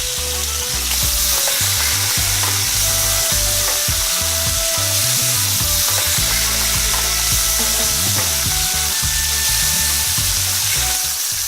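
Beef short ribs searing in a hot pan, a loud continuous sizzle and spatter close up, steady throughout.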